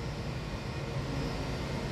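A Tigerair Taiwan Airbus A320-232 jet airliner taxis to the apron at Taipei Songshan Airport, its engines giving a steady, even roar with no breaks throughout.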